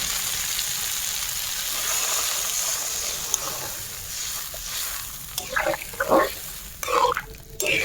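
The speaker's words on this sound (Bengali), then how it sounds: "ওই সবজিটা ভাজা ভাজা হয়ে গেছে, এলাম জল দিবার যান।" Steady sizzling of potato and pointed gourd frying in a pan, then bursts of louder spluttering and stirring as water hits the hot oil.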